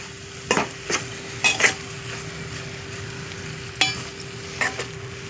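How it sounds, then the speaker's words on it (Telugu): A spoon stirs chopped coriander into a broad bean and coconut masala in a pan, giving a series of distinct scraping clinks over a low, steady sizzle. "లాస్ట్కి కొంచెం కొత్తిమీర వేసుకోవాలండి. వేసుకొని కలపాలి."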